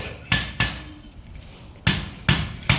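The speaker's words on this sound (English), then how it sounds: "every time you hit it with a hammer, you've got to start this whole bar moving" A hammer strikes a metal bar at a forge while upsetting it, giving five sharp ringing blows in an uneven rhythm, close and loud with no talk.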